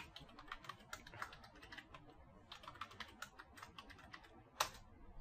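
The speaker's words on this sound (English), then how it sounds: "so I'll just type it" Root password typed on a computer keyboard during an operating system install, a quiet run of light key clicks in short bursts with a brief pause, ending with one sharper keystroke.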